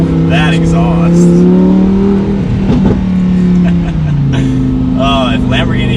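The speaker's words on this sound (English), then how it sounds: "in Corsa mode, that exhaust is epic sounding" A 2020 Lamborghini Huracan EVO exhaust in Corsa mode during a slow acceleration: a loud, close, continuous growl whose pitch climbs, dips and climbs again, with a voice briefly heard over it.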